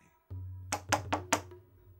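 Four firm knocks on a door come in a quick, evenly spaced series over a low steady hum, fairly close and with no talking.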